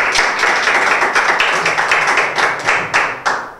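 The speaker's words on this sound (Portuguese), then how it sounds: "Aplausos mais uma vez para o AG." Audience applause at a BMS rap battle event, steady dense clapping from a crowd that swells and fades in waves, loud and close, with no talking over it.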